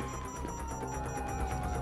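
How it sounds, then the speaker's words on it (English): Police sirens wail in Grand Theft Auto V, a steady electronic siren tone sweeping over a dense game soundscape, moderately loud and continuous throughout. "You hear that? Sirens!"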